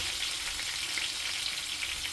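Vegan longganisa sausage frying in a pan, a steady close hiss and crackle of hot oil sizzling throughout with no talking.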